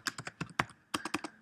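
Quick, crisp keystrokes on a computer keyboard, about a dozen clicks in two brisk bursts separated by a short pause, close and with no talk.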